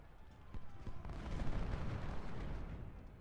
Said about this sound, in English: Even our cannons are joining in on some long range action.